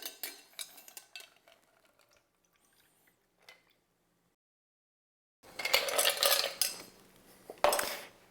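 A bar spoon stirring a Trident cocktail over ice in a mixing glass, bright clinking and rattling of cubes in two close bursts separated by a near-silent pause, with no talk.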